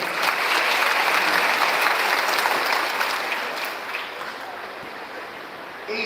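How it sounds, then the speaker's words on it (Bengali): Loud, sustained applause from a crowd at a Trinamool Congress Bijoya Sammilani rally in Pingla, a thick continuous patter that swells early then gradually softens, heard on its own without speech. "আমার মা কিংবা মা বোনদের জন্য একটা জোরে করতালি হয়ে যায়"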